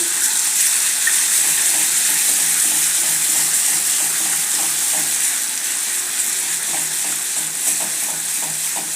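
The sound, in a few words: frying crushed green chili, ginger and garlic in pan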